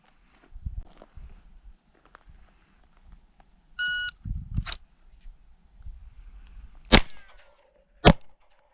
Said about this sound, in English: don't worry about that buzzer